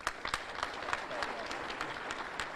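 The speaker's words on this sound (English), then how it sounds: "Thank you, Friday, for starting that applause for me." Audience applause at a governor's State of the State address in Monroe, a crowd clapping steadily at a moderate distance with sharper individual claps standing out near the start.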